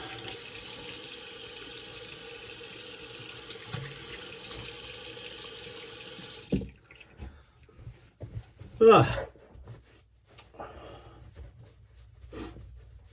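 A razor is rinsed under a running bathroom tap after a wet shave, giving a steady hiss of flowing water for about six seconds before it stops. A few faint knocks and breaths follow in the quiet.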